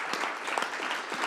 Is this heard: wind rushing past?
no